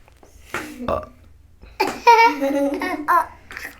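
A voice imitates a monster's burp, drawing out a long, loud, gurgling belch after a couple of short vocal sounds, close and alone with no other talk.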